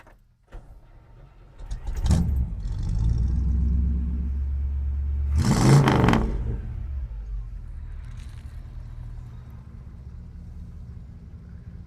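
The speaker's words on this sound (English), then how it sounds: "Oh, I love the sound of this sucker." A 1957 Oldsmobile Super 88 two-door Holiday idles with a deep, close rumble. One strong rev swells midway, then the engine settles back to a steady idle.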